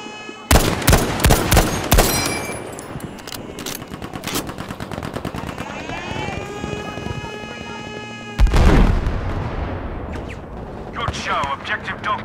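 Machine gun fire in the video game Battlefield V, dense rapid bursts mixed with heavy explosions and booming artillery, loud and close throughout, with game voice callouts layered over the fighting.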